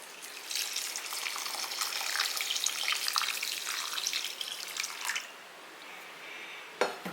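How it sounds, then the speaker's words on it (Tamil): Water pours steadily onto rice in a container for about five seconds with a hissing, splashing rush, then stops, followed by a brief clatter. "இப்போ இதில் தண்ணி ஊற்றிக்கலாம்"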